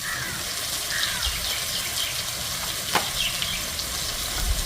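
Ground chilli, turmeric and coriander powders sizzle steadily in hot oil in a pan as aloo potol curry is cooked, with occasional soft scrapes of stirring and faint bird calls far off.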